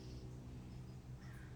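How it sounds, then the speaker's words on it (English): A crow calls faintly in the distance during a quiet indoor meditation session, with a few soft caws over a low steady background hum. "like if you can hear that bird in the background"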